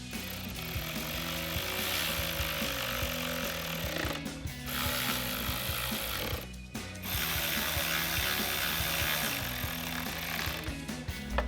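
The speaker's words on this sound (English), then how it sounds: "now we'll tighten them down with our 7mm socket" A 7mm socket ratchet tightens fasteners on a 2015-2017 Mustang bumper during a turn signal install, giving steady, close rapid clicking with a couple of brief pauses.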